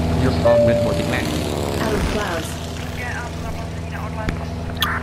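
Propeller-driven fixed-wing plane rolling for takeoff, a steady loud engine drone with shifting harmonic whine that sweeps up and settles, continuous throughout.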